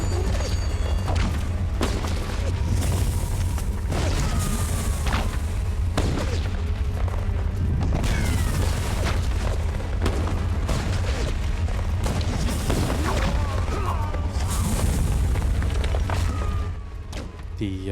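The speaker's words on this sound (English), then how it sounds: "The construction sounds were the only sounds really that I didn't change from the game." Construction sounds from an Unreal Engine 4 video game: dense, continuous booms, clanks and crashing impacts over a heavy low rumble, loud and busy throughout with no pauses.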